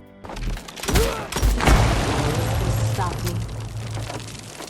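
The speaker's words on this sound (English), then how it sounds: "The basic enemies react in fairly convincing ways to your gunfire" Rapid bursts of gunfire in the boomer shooter Phantom Fury with booming impacts, followed by a steady rumbling din of action sounds, loud and close.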